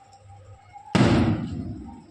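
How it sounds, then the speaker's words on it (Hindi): A single loud firecracker bang bursts out suddenly after quiet background noise in a village, its rumble trailing off for about a second. "ये पटाखे के शोर आपको सुनाई दे रहे होंगे"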